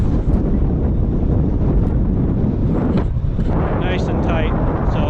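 Heavy wind buffeting a microphone outdoors while a flatbed load is tarped, a loud continuous rumbling roar with brief higher rustles near the end.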